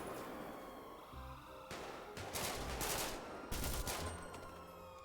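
Grand Theft Auto V gunfire sounds in sharp bursts and rattling volleys, with loud broadband blasts around the middle of the stretch over a constant background rumble, and no talking.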